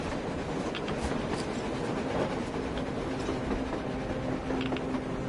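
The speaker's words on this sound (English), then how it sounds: "A train! A damn train on the surface!" A train rumbles past through a blizzard on the surface in the video game Metro Exodus, a dense, steady clatter of wheels under roaring wind, continuous and moderately distant.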